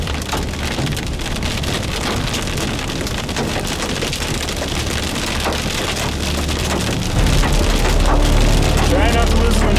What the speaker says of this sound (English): Some of these hailstones are huge.